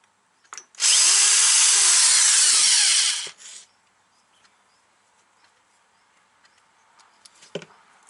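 A Chinese gasoline chainsaw gives one loud, harsh burst of whirring and rasping that lasts about two and a half seconds and then cuts out abruptly. Faint scattered clicks and taps follow in near silence.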